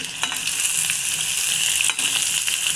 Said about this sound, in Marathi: हे मोठ्या गॅसवरच चांगलं परतून घ्यायचं